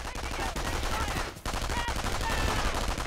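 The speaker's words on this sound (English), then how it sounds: "Let's throw a grenade to destroy the machine gun team." Machine gun fire in the Company of Heroes video game, a dense continuous rattle of rapid shots with a brief pause before resuming, loud and close throughout.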